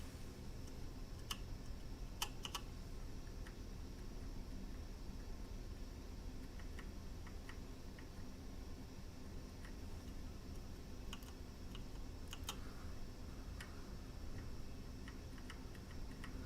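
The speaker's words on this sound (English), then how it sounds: "I got a brown board here, which is one of the ones that we're selling on one-up keyboards. I just want to test it here." A mechanical keyboard with brown tactile switches gives sparse, faint key clicks in scattered small bursts over a quiet, hissy background, with no voices.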